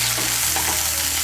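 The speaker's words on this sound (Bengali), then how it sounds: "টমেটো কুচিটাকে মিশিয়ে নেব তেলের সঙ্গে।" Chopped tomato is stirred into hot oil for a soybean kosha, producing a continuous loud crackling sizzle with soft scraping from the stirring, close and with no talking.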